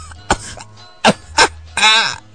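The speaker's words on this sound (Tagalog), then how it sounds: "Ala, sige, ubo." Three sharp coughs at a doctor's check-up, spaced about a second apart, followed by a longer strained throaty sound, close and loud with a faint hum underneath.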